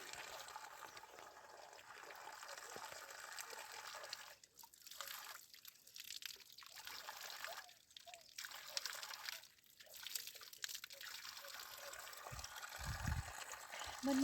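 Water from a mountain spring stream flows and trickles steadily nearby, with a few dips and bursts in the rushing sound and no speech.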